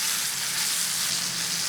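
A steak sears in a hot pan, giving a steady, close, hissing sizzle that holds evenly throughout with no talking.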